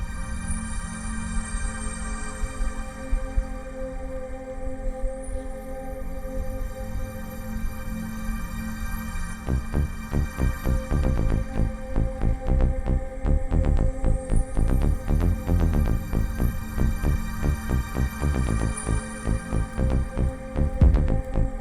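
A deep throbbing bass line enters under a looping electronic beat, growing fuller and louder halfway through, with steady pulsing low notes.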